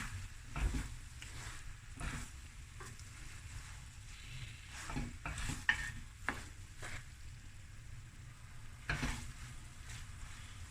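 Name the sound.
stirring lamb fried rice in a pan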